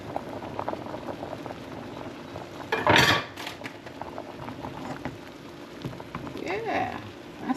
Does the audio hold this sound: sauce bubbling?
yes